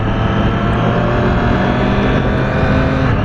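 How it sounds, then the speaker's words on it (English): Triumph Street Triple R triple-cylinder engine running steadily and loud close up, a continuous smooth mechanical drone with a slight revving rise and no talk over it. "the first thing I love about this bike is that engine, man. That triple, it's so good, it's smooth, it's torquey"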